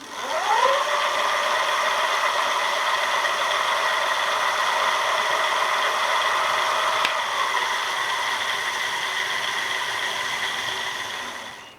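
A Lectric XP electric bike hub motor spins up to full throttle, a steady whirring whine that climbs briefly and then holds evenly for many seconds, close and alone before easing off at the end.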